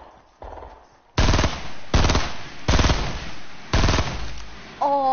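Gunfire in a video game: four loud, close bursts of rapid automatic shots with short gaps between them.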